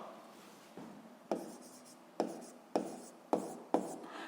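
A pen writes physics notation for a seventh-grade exercise: about six distinct scratchy strokes, each starting with a sharp onset and trailing off, spaced unevenly in a quiet room.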